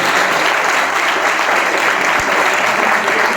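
Loud, dense applause rises from the audience at a quiz contest for the student participants, a steady wash of many hands clapping close by throughout, with no voices standing out.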